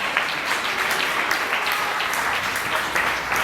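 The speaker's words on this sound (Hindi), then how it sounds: "तो जो लोग तालियां बजा रहे हैं" A congregation at a Hindi church sermon claps together, a dense, continuous burst of applause that fills the room without pause.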